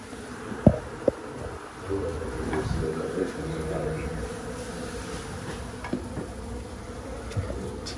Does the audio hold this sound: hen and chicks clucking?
no